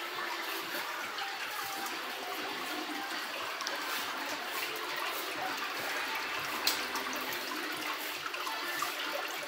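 Water trickles and bubbles continuously in a home saltwater aquarium, a soft steady close splashing without pause.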